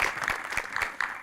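A studio audience applauds on a New Year special talk show, a steady burst of clapping from many hands, fairly close and continuous, with no talk over it.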